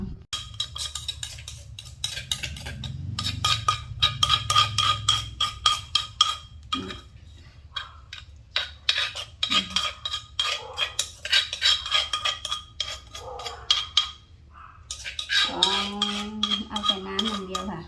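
Herbal mixture for stomach ache strained through a metal sieve, with rapid, repeated metallic scraping and clinking of utensil against the mesh and pot, close up, ending with a brief voice.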